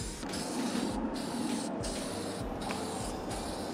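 Spray paint hissing onto a car's front lip, a close, continuous aerosol hiss broken by a few short pauses between passes.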